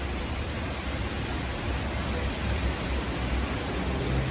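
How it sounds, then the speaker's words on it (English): Heavy rain and gusting wind from Tropical Storm Isaias in the New York and New Jersey area, a constant loud hissing wash of downpour and rumbling wind noise with no clear breaks. "Rain is getting heavy and wind is getting windier."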